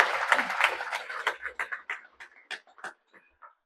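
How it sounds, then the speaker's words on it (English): Audience applause at a World Human Genetics Day event, starting as a dense burst of clapping and thinning into scattered individual claps that fade out. "She deserves a big round of applause."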